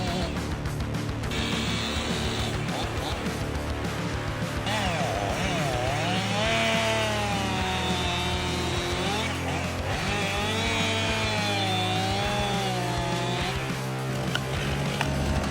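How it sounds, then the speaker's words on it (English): A chainsaw with a sharp chain runs steadily and loudly as it cuts through a tree trunk, its engine pitch rising and wavering under load, with no talk. "As the blade makes contact with the tree trunk, the chain starts slicing through, sending sawdust flying."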